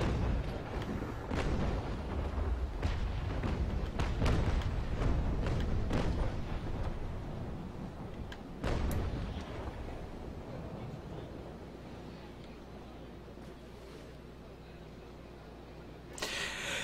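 Naval Action warship cannon fire, dull booms and sharp cracks scattered through the first half over steady wind and ocean surf, then quieter rolling sea, with a brief burst at the end.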